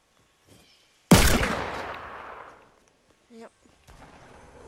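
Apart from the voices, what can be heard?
gunfire in the video game Fortnite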